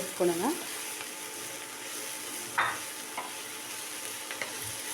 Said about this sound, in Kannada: ಫ್ರೈ ಆಗ್ತಾ ಇದೆ